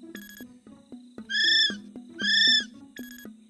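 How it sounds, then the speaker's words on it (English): A kiwi bird call: a series of sharp, evenly spaced low clicks runs throughout while two long, shrill rising whistles stand out loud and clear between them, with no speech. "It's a kiwi, but not the kiwi fruit. It's the kiwi bird."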